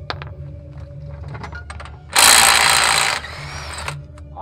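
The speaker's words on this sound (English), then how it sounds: "I'm using a 36 millimeter Harbor Freight socket to take off this sweet nut" A ratchet with a 36 mm socket works on a truck's CV axle nut, with light clicking at first, then a loud harsh burst of rapid ratcheting for about a second, followed by quieter clicks.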